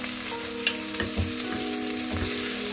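Beef slices frying in a pan, a steady loud sizzle with a few soft clacks and stirring bumps as the meat is moved, no voices over it.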